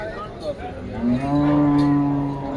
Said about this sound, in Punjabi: ਬਹੁਤ ਵਧੀਆ ਦੁੱਧ ਵਾਲੀ ਮੱਝ ਆ ਬਾਈ ਜੀ ਤੀਜੇ ਸੂਏ ਸੂਈ ਹੋਈ ਆ